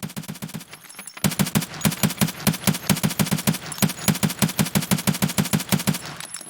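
The STM-9 submachine gun in Escape from Tarkov fires a short burst, then a long unbroken automatic stream of rapid, evenly spaced shots, loud and close.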